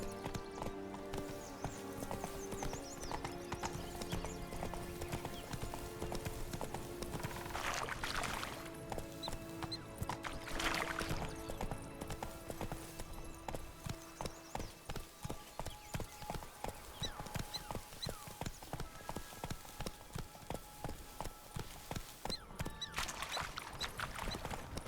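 Horse hooves clip-clopping in a rhythmic gallop in The Witcher 3, steady and moderately close, with occasional whinnies and ambient game sounds underneath.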